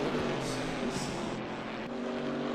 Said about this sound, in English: The engine drone takes over.